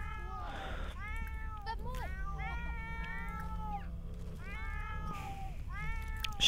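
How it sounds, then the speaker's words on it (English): Cats in The Sims video game, several meows and yowling screams repeating in quick bursts over a steady background, a game player talking across them. "Why are these cats screaming?"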